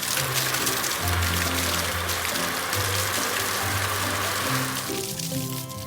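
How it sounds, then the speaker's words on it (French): Cartoon tanker truck spraying water to rinse foam off a green car, a continuous rushing splash of water with a low tonal hum running underneath and easing near the end. "Le camion citerne enlève la mousse."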